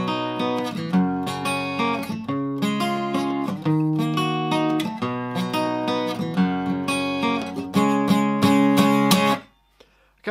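A guitar plays the bridge of a song, with rhythmic strummed chords and picked notes that continue steadily and loudly up close for about nine seconds before stopping abruptly.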